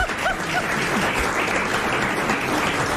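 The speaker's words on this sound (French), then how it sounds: "Vous applaudissez" Studio audience of a French radio show applauding, a dense steady burst of clapping lasting about three seconds at even loudness, with no talk over it.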